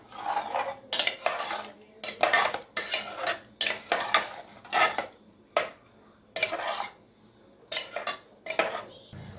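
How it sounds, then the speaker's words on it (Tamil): A spoon scraping and clanking in a pan as cashew paste is stirred into potato gravy, with rhythmic bursts of metal-on-metal stirring, close and fairly loud, and no talking. "ஆன் பண்ணிவிட்டு நல்லா கலந்துக்கலாம்."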